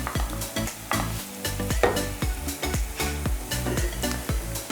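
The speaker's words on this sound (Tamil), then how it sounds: "இப்போ இது நல்லா ஃப்ரை ஆகிடுச்சு." Okra masala with turmeric fries in a pan while being stirred steadily, a loud close sizzle broken by rhythmic spatula scrapes and knocks throughout, with no talk.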